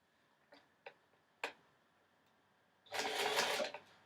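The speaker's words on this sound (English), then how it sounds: "we're just going to do a nice top stitch down just to keep the piece of elastic in place" Sewing machine top stitching elastic into a dress: a few sharp isolated clicks, then a short burst of fast close machine stitching, alone in a quiet room.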